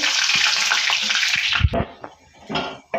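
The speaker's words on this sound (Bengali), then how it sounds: "এই দেখুন আমাদের তেল গরম হয়ে গেছে এবার আমরা ভাত শুকনোগুলো দিয়ে দেব" Sun-dried leftover rice fried in hot oil, giving a loud, dense sizzle that breaks into sharper bursts of crackling and bubbling partway through.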